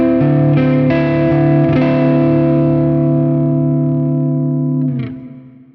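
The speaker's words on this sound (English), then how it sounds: "this can sound really beautiful in the context of a 4-7-9 chord like this" A sustained 4:7:9 chord in 22-EDO microtonal tuning, played on a distorted, effects-laden synth tone, holding steady and loud for about five seconds before fading away.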